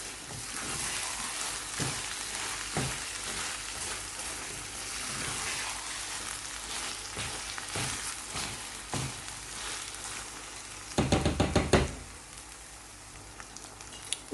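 Crushed whole coriander seeds sizzle in hot oil in a pan for an aloo keema lamb and potato curry, a soft, steady crackle with light stirring scrapes and a brief louder clatter of the spoon near the end.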